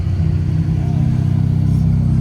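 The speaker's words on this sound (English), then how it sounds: "Still got cars rolling in." Cars roll into a packed cars-and-coffee meet, a steady, loud, close engine drone with low idling rumble and no clear revving peaks.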